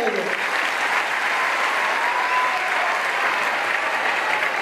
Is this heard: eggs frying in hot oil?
no